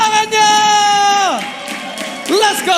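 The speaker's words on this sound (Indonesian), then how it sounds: "EPL Arena, minta tepuk tangannya!" An arena crowd cheers and claps at an MPL esports match between Bigetron and Rebellion, a steady roar beneath a loud, drawn-out shouting voice, with whoops rising again near the end.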